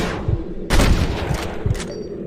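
Rapid gunfire crackles in Red Dead Redemption, with a dense fusillade of close, loud shots and a heavy burst partway through, overlapping volleys continuing to the end.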